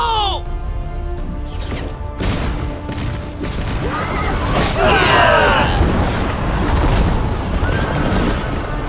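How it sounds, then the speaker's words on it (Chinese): Rockets and cannons fire in an animated battle, with dense booms, crashes and whooshing blasts under a neighing horse and shouted voices. "火箭大炮准备好了。 开炮！"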